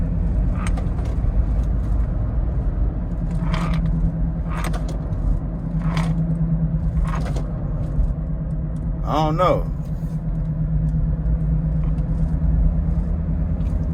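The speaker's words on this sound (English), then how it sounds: "So it's making a humming sound." Steady low tire and road hum from a car being driven, a continuous drone beneath occasional male speech and brief clicks inside the cabin.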